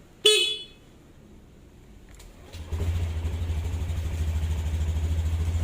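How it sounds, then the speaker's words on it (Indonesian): A single short, sharp motorbike horn beep sounds up close, then after a pause the engine starts and settles into a low, steady idle. "Ini bisa diklakson."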